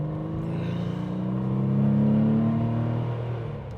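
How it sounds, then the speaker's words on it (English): A 1997 Porsche 993 coupe pulls hard through the gears on a country road, its engine note swelling and rising in pitch before easing, heard from inside the car. "we're gonna do our norm, go through the gears"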